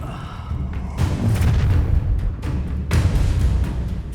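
The Incendio fire spell cast in Hogwarts Legacy on PS5, heard as two heavy whooshing bursts of flame with a deep boom at each onset, the second following about two seconds after the first, amid battle noise.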